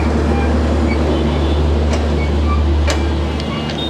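A broad gauge express train runs past at a railway junction, a loud, steady rumble filling the whole stretch, with brief sharp metallic clanks rising above it.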